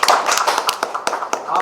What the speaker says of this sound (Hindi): इसके लिए ताली आप बजाएं प्लीज